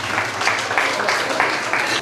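Applause from a wedding crowd welcoming the groom's father, a steady dense patter of many hands clapping at close range without a break.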